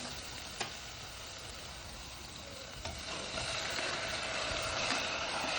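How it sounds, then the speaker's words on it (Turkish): Food sautés in a pan with a steady, broad sizzle that holds through the whole stretch and swells slightly toward the end, with a few faint ticks of utensil contact; close, no talking. "Güzelce kavuruyorum."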